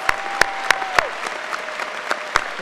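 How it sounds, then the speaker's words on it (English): A commencement audience applauds the 2022 SUNY Chancellor's Award for Student Excellence winners, a steady wash of crowd clapping with a few louder close claps standing out. "would you please join me in a round of applause for the winners of the 2022 SUNY Chancellor's Award for Student Excellence"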